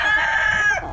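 A rooster at the AEJ gamefarm crows loud and close in one sustained, strained call that falls away at the end, with no voices over it.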